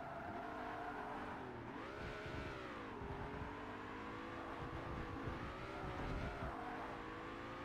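A Porsche 911 GT2 engine drones steadily in Forza Motorsport, rising and falling in pitch as it revs through corners, with continuous road and tire noise and no speech, heard fairly faint.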